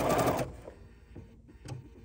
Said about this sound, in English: And continue to stitch.